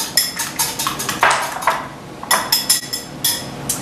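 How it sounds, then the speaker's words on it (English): Three eggs being whisked together in a bowl: quick bursts of clinking metal-on-bowl strokes in an uneven rhythm, with short pauses between runs, close and fairly clear. "take 3 eggs, whisk them together so that they are light and fluffy"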